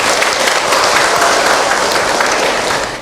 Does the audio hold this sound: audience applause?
yes